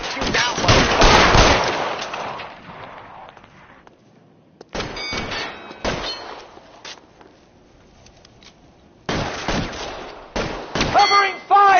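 Gunfire from a PS4 shooter game crackles in bursts, loud and close, with quieter gaps between volleys and a few short clicks and shuffles.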